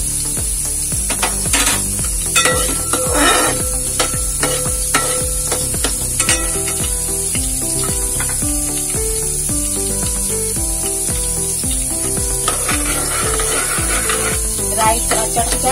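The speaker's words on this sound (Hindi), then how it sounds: "राई चट गया।" Mustard seeds crackling and popping in hot oil while tempering for sambar, a steady dense sizzle under a constant bed of background music, with no talking.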